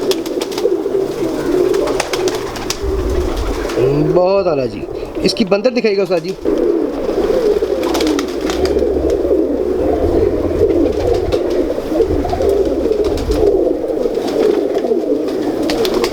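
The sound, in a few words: Laal Pari pigeons cooing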